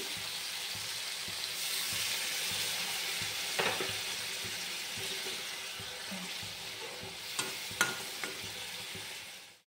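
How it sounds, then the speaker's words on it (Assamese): Gentle sizzling and frying hiss of mushrooms in a pan continues steadily, with occasional scraping and clinks of a utensil stirring. "এতিয়া মই এইখিনি অলপ টাইম ভাজিম।"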